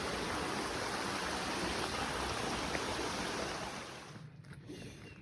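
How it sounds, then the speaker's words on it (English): A waterfall on the Bartram Trail pours in a dense, steady rushing roar close by, fading somewhat toward the end with no voices. "That took me, 3 minutes to walk to this waterfall."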